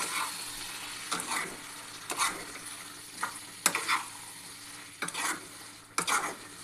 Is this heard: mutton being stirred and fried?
yes